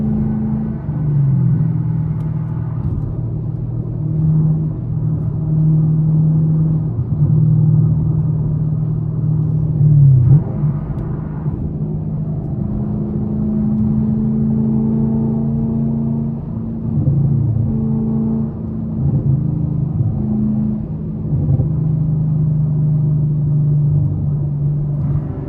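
A Chevrolet Camaro SS cruises downtown at night, its V8 engine a steady, deep, loud rumble from inside the car. The pitch shifts slightly as it drives, with no talking over it.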